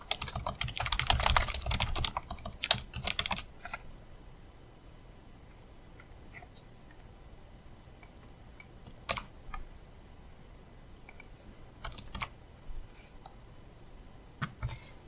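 Code is typed on a computer keyboard in bursts of quick, close key clicks, dense at first and then thinning into scattered single taps and short clusters with pauses between.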